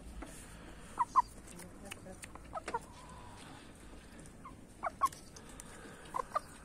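An old rooster gives soft, faint clucks in short scattered pairs over a low outdoor background hum.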